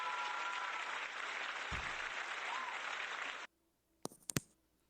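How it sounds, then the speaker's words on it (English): Steady broadband clapping from an audience at an online guild debate, even and fairly loud for about three and a half seconds, then a sudden stop followed by a few brief clicks. "Please, let's hold the applause till the end."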